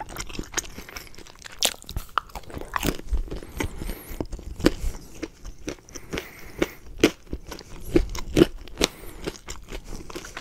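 Crunchy thin-crust Chuck E Cheese pepperoni pizza being bitten and chewed up close, with repeated sharp crackling crunches at an irregular chewing rhythm and no talking.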